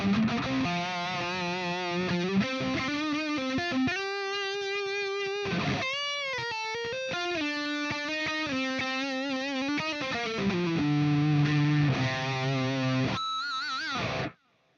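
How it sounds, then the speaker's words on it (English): An electric guitar lead tone from a Bogner Uber Ultra capture on a Quad Cortex, with extra mids and gain, sings sustained distorted lines with vibrato and bends. Loud and continuous, it ends abruptly. "My lead sound is just that exact same thing on the Bogner with a little bit more mids and a little bit more"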